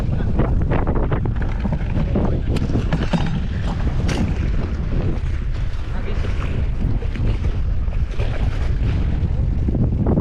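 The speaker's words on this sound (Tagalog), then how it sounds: "Malakas lang yung hangin." Loud, constant wind buffeting a microphone, a rough low rumble filling the whole stretch with no break.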